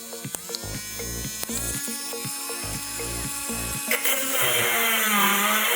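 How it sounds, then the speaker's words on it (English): A power drill bores into the back of a plastic NES console shell in short, loud whirring bursts separated by brief pauses, ending in a longer sustained grind. "we need to drill a hole into the back of the shell of the NES right here"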